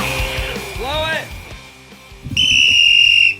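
Whistles are blown loudly up close on a football podcast, a warbling trilled blast first, then a long steady shrill blast after a pause, with voices and laughter underneath.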